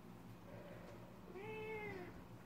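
A cat meows to be let out indoors: one drawn-out, moderately faint meow over a low steady background hum, with no talking.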